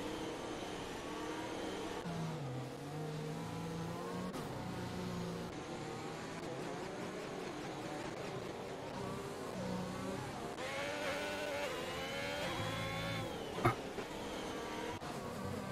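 Formula 1 car from the F1 2021 racing game at an esports league race at the Abu Dhabi Grand Prix, its engine whining steadily with rising and falling pitch as it accelerates, loud and continuous with no talking.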